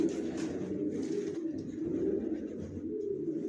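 Racer pigeons, young birds kept for sale, coo nearby in a soft, continuous low murmuring with no talk.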